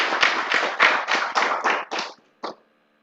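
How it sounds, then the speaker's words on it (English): A round of hands clapping at a breakfast event, a quick burst of about eight loud, close claps that thin out and end with one last clap, no voices over it. "Mr. Dan Ateto, let's give him a round of applause."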